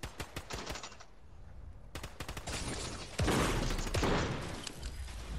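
Rapid automatic gunfire in the video game Fortnite, with sharp bursts of shots early on, then sustained loud volleys that grow heavier toward the end.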